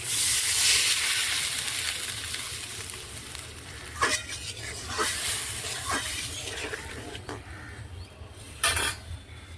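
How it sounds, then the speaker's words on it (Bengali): Fried potatoes and water go into a hot pan of spiced oil for a Bengali fig-and-prawn dish, giving a steady broadband sizzle with a few sharp utensil clinks against the pan. "এবার দিয়ে দেব ভেজে রাখা আলু। দিয়ে দেব পরিমাণ মতন জল।"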